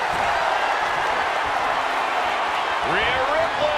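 A wrestling arena crowd roars steadily and loudly throughout a wrestling video game, under constant game sound and commentary.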